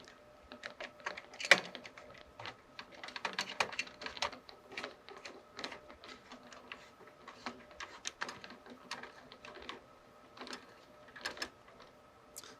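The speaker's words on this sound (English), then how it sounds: "just to kind of go over my screws to make sure everything is tightened securely" A screwdriver tightens the screws holding a processor heatsink onto a computer motherboard, giving quiet, irregular clicks and ticks scattered through a soft, steady background.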